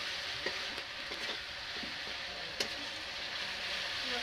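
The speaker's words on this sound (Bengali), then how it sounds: "মশলাটা আমি এখানে ভালোভাবে ভাজিয়ে নেবো যতক্ষণ না তেল ছাড়ছে মশলাটায়।" Spiced masala paste fries in oil in a pot over a wood fire for village-style mutton curry, giving a steady broadband sizzle with a few soft scraping stirs and occasional clicks of the spoon, and no talk.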